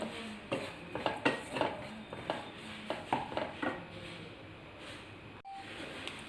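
Spoon scraping and knocking in a cooking pan while fennel powder is stirred for Kerala-style chicken mappas, a series of sharp metallic clinks and scrapes in irregular rhythm, close and moderately loud with a quiet background.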